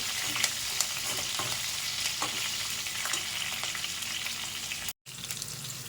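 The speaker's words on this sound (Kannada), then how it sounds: "ಕರಿಬೇವು ಆದಮೇಲೆ ಮೆಣಸಿಕಾಯಿ ಆ್ಯಡ್ ಮಾಡ್ತೀನಿ. ಅದು ಸ್ವಲ್ಪ ಚೆನ್ನಾಗಿ ಫ್ರೈ ಆಗಲಿ." Green chillies and curry leaves, with cumin and mustard seeds, fry in hot oil in a pan for a potato rice dish: a dense, steady sizzle throughout, with a brief cut near the end.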